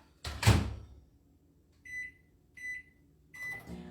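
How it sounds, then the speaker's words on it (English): A home microwave oven is shut with a loud thump and started for 90 seconds, its keypad giving three short, clear electronic beeps at even intervals, followed by the first faint rise of its hum, all close by with no talk. "I'm going to toss this into my microwave for 90 seconds"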